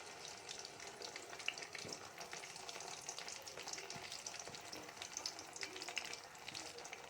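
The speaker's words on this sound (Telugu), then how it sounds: "ఆయిల్ వేసుకున్న తర్వాత ముందుగా స్టఫింగ్ చేసుకున్న వంకాయల్ని అందులో 1 by 1 వేసేసుకొని" Stuffed eggplants frying one by one in oil in a kadai, giving a steady, fairly faint sizzle and crackle that continues evenly with no talking.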